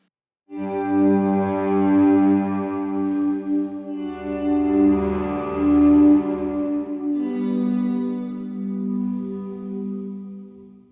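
Electric guitar through a Tone King Imperial amp plugin with a long reverb decay, sustained chords swelling into lush, shimmering pads with heavy echo and chorus-like wash, played alone.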